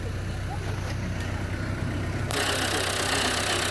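A 2005 Tata Indigo Marina diesel car engine idling in good condition, a steady close rumble with a continuous broadband hiss, getting a bit louder partway through.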